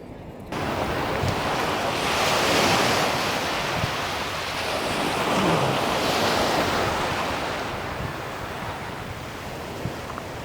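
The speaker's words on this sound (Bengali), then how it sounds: "প্রচণ্ড পরিমাণে বাতাসও প্রবাহিত হচ্ছে" Strong wind blows across the sea beach at Cox's Bazar, roaring steadily into the microphone while surf rolls and washes in the background, loud and unbroken with no voices.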